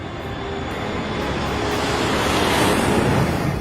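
An airliner lifting off the runway gives a steady, loud, broadband jet roar with rushing wind, building slightly in intensity without a break.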